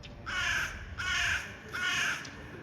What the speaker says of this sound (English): Another sign you're in Germany is these crows.